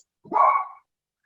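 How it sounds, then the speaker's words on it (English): A single short dog bark or yelp from someone's dog in the background during an online meeting, fairly clear and alone, lasting under a second. "someone's dog's having a chit chat"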